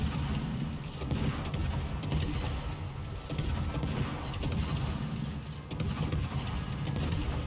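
Warship gunfire in a naval combat video game, continuous booming shots and rumbling blasts layered over a constant roar, loud and dense throughout without voices.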